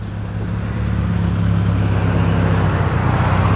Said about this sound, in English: A very purposeful sounding 100E Ford, originally side valve powered